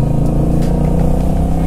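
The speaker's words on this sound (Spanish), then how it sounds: "mis impresiones manejando una moto automática o semiautomática grande" A Honda Rebel 1100 motorcycle with an automatic gearbox drones loud and close on the road, its engine holding a steady, throaty hum with slight wavers in pitch.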